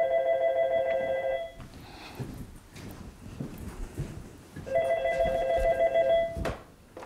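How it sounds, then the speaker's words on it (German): A telephone rings in a town hall office in Vechta, Germany, in two bursts of electronic trilling separated by a pause, with faint rustling and handling noise in between. "Es ist so klar, dass jetzt das Telefon klingelt."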